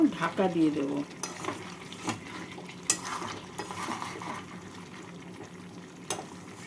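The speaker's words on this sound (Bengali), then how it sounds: "মাংসটাকে দু মিনিট নাড়াচাড়া করে নিলাম" Chicken pieces stirred in a frying pan, a steady soft sizzle under repeated scraping strokes of a utensil and a few sharp clinks against the metal, close and moderately loud with no talking.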